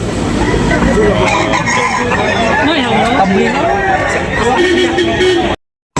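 Roosters crowing and clucking at a market sale of fowl, several loud nearby crows with wavering calls overlapping chatter and someone talking, ending abruptly.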